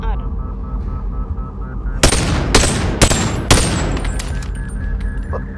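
A rapid-firing gun in the VR game Boneworks lets off four loud, sharp bursts close by, spaced about half a second apart, over a steady hum of game ambience.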